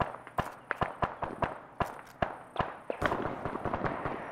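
Gunfire in the military video game Arma, a string of sharp, loud single shots at irregular intervals, growing denser toward the end, with no talking.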